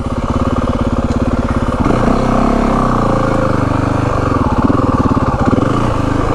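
A 2025 Yamaha WR 450F dirt bike with a throttle tamer runs while being ridden, its single-cylinder engine thumping loud and close at a rapid steady pulse, rising and easing with throttle changes.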